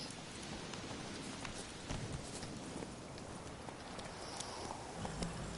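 Soft hoofbeats from a horse in a video game, faint and steady under a constant hiss like rain or wind, with no talking.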